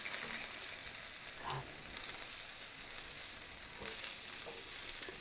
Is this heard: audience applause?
no